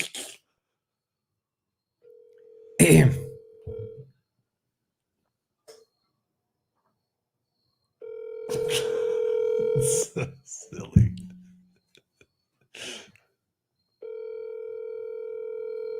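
A phone call in progress: a long steady ringback tone sounds in repeated stretches, separated by silent gaps, with a few short bursts of talk and a cough in between.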